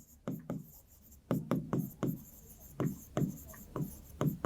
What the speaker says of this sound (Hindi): मैं यहां पे लिख देती हूं